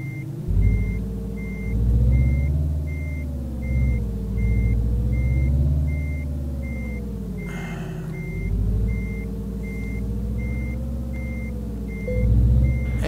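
Reversing alarm on a Peterbilt 351 truck backing a trailer in Euro Truck Simulator 2, a steady evenly spaced beeping over a low continuous diesel engine rumble that swells and eases, with a brief hiss partway through.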